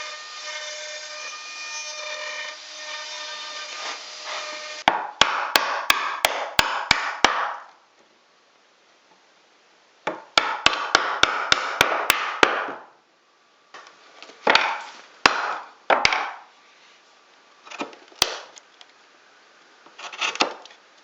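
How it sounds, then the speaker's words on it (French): Wood chisel driven with mallet taps to clear out the centre of a double tenon for a wooden cabin bed, with bursts of rapid sharp strikes and scraping cuts, close and loud, separated by silent gaps. "supprimer ensuite la partie centrale au ciseau à bois"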